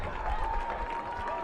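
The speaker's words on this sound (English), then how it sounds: "Spokane's fans give them a much and well-deserved applause after this sequence" Spokane supporters applaud at a women's soccer match, a steady wash of crowd clapping heard at a distance beneath a commentator's voice.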